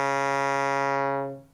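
Otamatone fed through a synthesizer's low-pass filter gives a single buzzy sustained note, loud and steady, before it fades and cuts off near the end.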